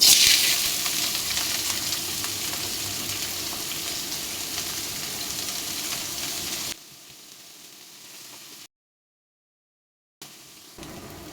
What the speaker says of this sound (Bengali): তেল গরম হলে এর মধ্যে আমি পেঁয়াজ কুচি আর কাঁচামরিচ কুচি দিয়ে দিলাম